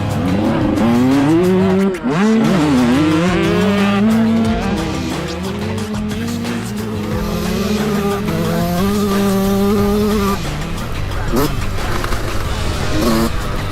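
A racing car laps a track, its engine rising and falling as it accelerates and shifts, with brief tire squeals through corners and people talking over the close, continuous roar.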